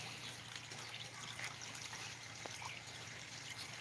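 Water trickles steadily toward a backyard pond waterfall in a new alligator gar habitat, a soft, continuous flow heard close by with no talking.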